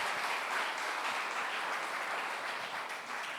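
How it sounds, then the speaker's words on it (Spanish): A church congregation claps for the Lord during a Spanish-language sermon, a soft, even wash of many hands heard at a distance and fading slightly toward the end. "Demos un aplauso al Señor"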